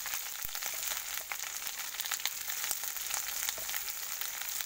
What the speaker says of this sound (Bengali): দিয়ে দেখো এটাকে ভালোভাবে আমি ফ্রাই করে নেব।